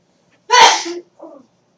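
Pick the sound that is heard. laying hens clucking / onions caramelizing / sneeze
sneeze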